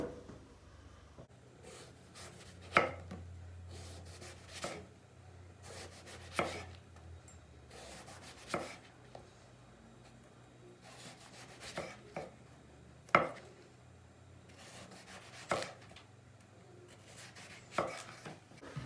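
Kitchen knife cutting through unpeeled eggplant on a board, a series of spaced, crisp chopping thuds with quiet pauses between them, close and distinct, with no talking.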